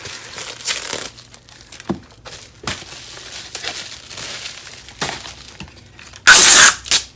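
Packing tape is pulled and pressed onto a package, giving crinkling, crackling bursts that end in a loud, sharp rip as a strip comes off the roll.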